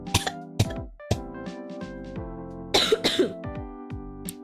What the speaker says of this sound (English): I'm coughing already.